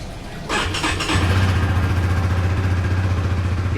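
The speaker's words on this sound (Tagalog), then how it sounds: "Cold start muna." A motorcycle cold-starts, damaged and recently rained on: a brief cranking burst, then the engine catches and settles into a loud, steady, throbbing idle up close.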